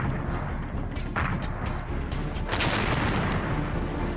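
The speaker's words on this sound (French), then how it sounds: "L'artillerie russe les bombarde jour et nuit." Russian artillery bombardment, a dense barrage of booming blasts and rumbling detonations overlapping in rapid succession, loud and continuous throughout.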